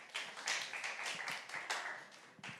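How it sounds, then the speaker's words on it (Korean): A church youth service congregation claps together, quiet and somewhat distant, with a loose run of hand claps forming an uneven patter over a couple of seconds and no one speaking over it. "자, 박수."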